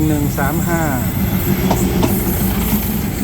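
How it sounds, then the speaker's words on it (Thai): A THN 1135 diesel railcar passes at Bang Sue Junction in Bangkok, with a loud steady rumble, a brief rising whine from the wheels or horn early on, and faint clicks of the wheels on the rails. "เป็นรถดีเซลรางคันแรกครับ THN 1135"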